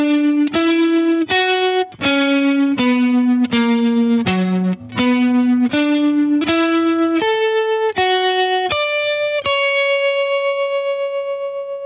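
Electric guitar with distortion plays a worship song, a loud, saturated line of about fifteen sustained notes in steady rhythm, ending on a long ringing note, with no talk.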